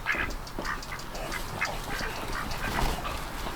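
Farm ducks quack repeatedly around a barn during chores, a rapid run of raspy calls over a continuous outdoor background noise.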